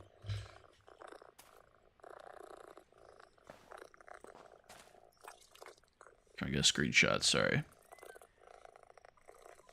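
Cat in a video game giving a brief loud yowl near the end, after a stretch of quiet talking and low background sounds.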